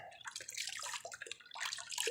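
Tap water runs into a bucket for rinsing a paint brush, a soft continuous splashing and gurgling with uneven bursts, quiet and close with no talk.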